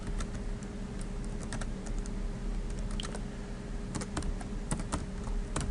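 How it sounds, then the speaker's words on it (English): Typing text on a computer keyboard in a document editor, a continuous run of quick, close key clicks with short bursts and brief pauses, with no talking over it. "You can type text up here."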